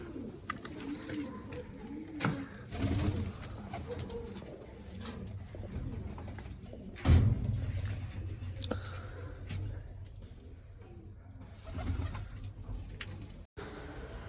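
Domestic pigeons coo in low, rolling phrases near a netted loft, strongest early on, with scattered clicks and rustles and a sharp knock midway.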